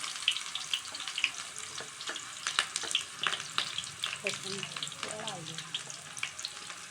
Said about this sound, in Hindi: सबसे पहले हम प्याज डालेंगे गरम तेल में।